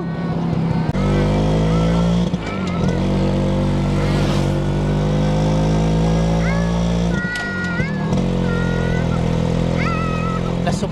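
Engine of a Kawasaki HD3 two-stroke motorcycle running steadily close by during a ride, with voices speaking over the drone and a brief dip in the engine note partway through.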